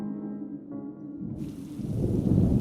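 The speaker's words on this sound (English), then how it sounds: "But when the first drops of rain began to pour" A soft hiss of rain builds and thickens, growing into a steady downpour by the end, with a low rumble underneath.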